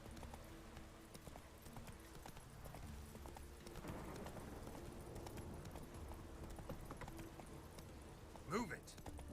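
Roach the horse gallops in The Witcher 3: Wild Hunt, a steady rhythmic clip-clop of hooves under faint game sound, with a brief loud whinny-like cry near the end.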